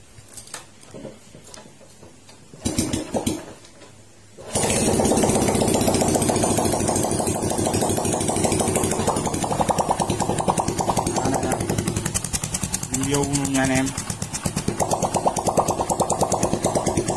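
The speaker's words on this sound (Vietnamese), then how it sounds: "Bây giờ mình mà nổ máy cho anh em nghe luôn nè" A 1999 Honda Wave Thái 110 motorcycle engine is kicked, catches and starts, then settles into a loud, steady idle with a rapid rhythmic chug close by.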